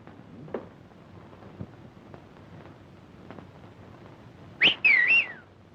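A person whistles a short bird-like signal, two quick rising and warbling notes near the end, heard over quiet room ambience with faint knocks earlier.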